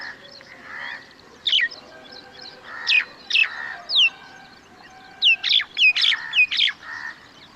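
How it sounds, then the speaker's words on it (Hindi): A common myna calls in a run of loud, clear whistles, chirps and harsh notes, several sharp rising and falling calls in quick bursts over a faint background of other birdsong, with no talking. "सही जवाब है कॉमन मैना"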